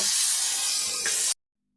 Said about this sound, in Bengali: এবার এই আলুগুলো আমি একটু ভেজে নেব